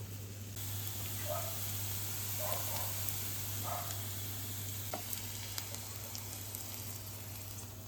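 Steady sizzling of sweet pepper frying quickly in hot oil fills the clip, with a constant background hum and a few soft clinks and stirring sounds.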